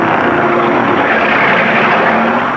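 Big factory V8 stock cars of 300 horsepower and more race at Daytona in 1960, making a loud, continuous, unbroken engine roar throughout.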